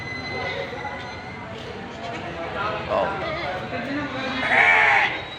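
Goats, including native and Boer goats, bleat amid a noisy outdoor livestock market, with one loud bleat near the end and people talking throughout.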